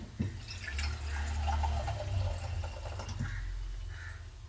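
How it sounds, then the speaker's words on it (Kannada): Water poured into a glass half full of milk, a short gurgling fill with low rumble, close and fairly loud. "ಅರ್ಧ ನೀರು ಹಾಕ್ಕೊಳ್ತೀನಿ."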